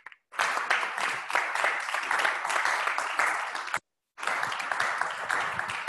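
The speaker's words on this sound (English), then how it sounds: "So let's give Ezra a round of applause" An audience claps at a talk, a steady, dense round of applause that carries on for a few seconds, stops briefly, then resumes at the same even level.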